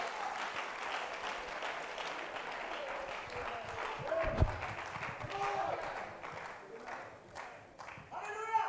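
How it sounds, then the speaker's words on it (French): A church congregation at an international convention claps hands together, a dense, continuous patter of applause with voices mixed in. "Give the Lord a hand clap."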